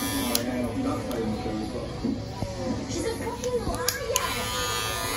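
An electric hair clipper with a metal guard attachment buzzes steadily while cutting a bald fade, a constant close hum under someone talking and some background voices.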